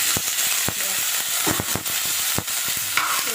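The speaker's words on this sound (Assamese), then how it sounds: "ভিডিঅ' অন কৰি দেখা পাইছে গেছৰ ওপৰত মই অমিতাখিনি দি দিম" Papaya fries in a pan on a gas stove, a steady sizzle broken by sharp, irregular taps and clacks of stirring against the pan.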